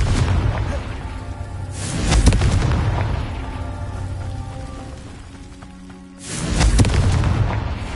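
A Confringo spell explodes in Hogwarts Legacy, two loud booming blasts roughly five seconds apart, each rolling into a long rumbling decay under game music.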